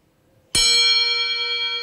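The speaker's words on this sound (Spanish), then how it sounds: "Cada vez hay más campanas como la que van a ver a continuación en los hospitales" Hospital bell rung when a cancer patient finishes treatment, a single bright metallic strike that rings on with a long, clear, slowly fading tone in a quiet room.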